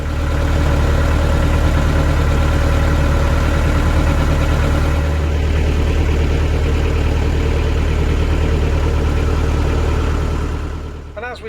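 A canal boat engine on the Lancaster Canal runs with a rough, worsening noise, a loud, steady, close idling drone with deep low rumble that holds throughout before easing off at the end.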